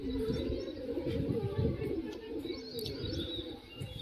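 A stray pigeon coos from its perch in a low, throaty rolling call, close and steady, while faint chirps from other birds sound in the background.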